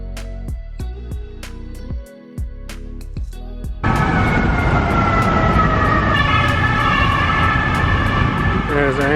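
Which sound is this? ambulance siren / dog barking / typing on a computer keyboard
ambulance siren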